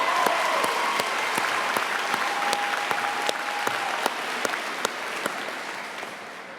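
A graduation ceremony audience claps steadily, a dense wash of applause from a large crowd that holds for several seconds and slowly fades, with a few sharp individual claps standing out.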